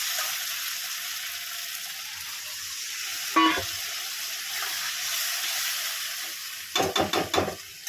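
Water poured into fully fried spice paste for prawn and potato rasa, giving a steady loud sizzle throughout, with a sharp splash near the middle and a quick run of crackling bursts near the end.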